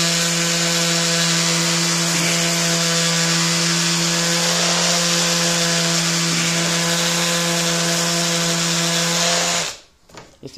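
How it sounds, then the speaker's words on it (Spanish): An electric sander whines steadily and loudly close by, grinding against a wooden plug to round it, for about ten seconds before cutting off abruptly. "Y además con la lijadora le vamos a redondear"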